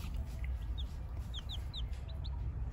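Chickens cluck softly in a series of short chirpy calls over a constant low rumble of background noise, fairly faint and at a middle distance.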